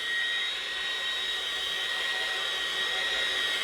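Hair dryer blowing on a watercolour painting, a steady close airy whir with a high tonal whine, constant and alone without speech.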